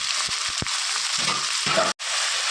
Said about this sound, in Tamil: கட் பண்ணி வச்சுட்டு உருளைக்கிழங்கு சேர்த்துக்கிறேன்.